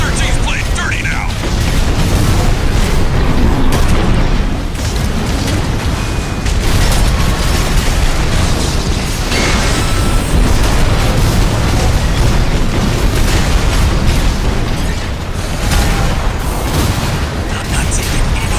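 Heavy in-game artillery from gun batteries in Armored Core 6 booms continuously, dense overlapping explosions and blasts roaring loud and steady throughout with a voice speaking over the barrage.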